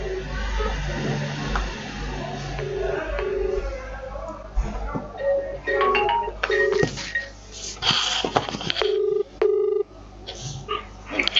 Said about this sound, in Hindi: जी, मैं फोन कॉल से जोड़ रहा हूँ आपको